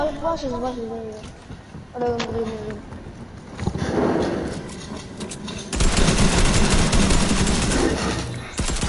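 Tactical SMGs fire in a video game, in rapid bursts that build into a sustained, loud stream of shots near the end. A few rising tonal chirps sound early on.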